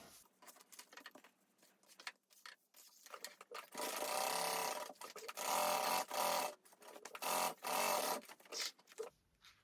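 A home sewing machine basting a pocket onto a lining panel for a bag, running in several close, rapid whirring bursts separated by short pauses and quiet handling sounds.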